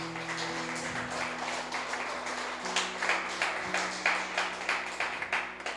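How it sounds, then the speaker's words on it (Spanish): Applause from a church congregation during a Spanish-language sermon, a dense, fairly distant wash of clapping with a few sharper claps, steady over a low sustained hum. "Dale un fuerte aplauso al Rey."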